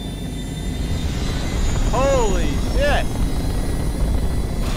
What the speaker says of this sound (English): The Millennium Falcon is loud.